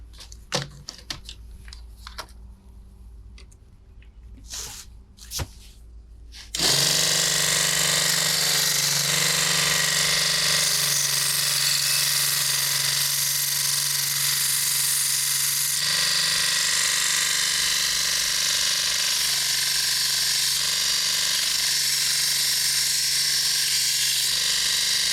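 Continuous loud, steady abrasive roar of sanding a homemade assist hook spacer/puller tool, starting abruptly after several seconds of scattered faint clicks and handling noises, then running unbroken and close.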